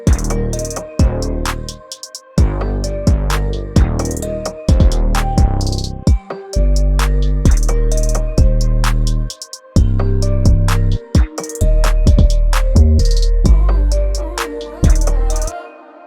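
A distorted, non-traditional 808 bass preset in a pop mix, booming deep bass notes with gritty saturation under crisp drums and bright synth parts, loud and continuous for about sixteen seconds.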